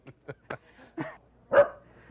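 A dog barks in several short, separate yaps, followed by a louder, longer bark or yelp, all close by and with no talking.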